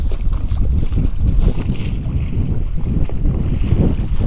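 Steady wind buffets an open fishing boat on Lake Sakakawea during fall walleye fishing, a continuous low rumble of gusts across the microphone with water lapping against the hull, and no voices.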